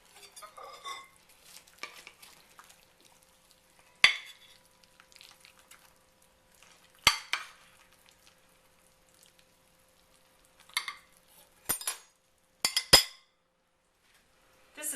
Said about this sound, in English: And now I'll put some on a plate and show you what it looks like on the plate.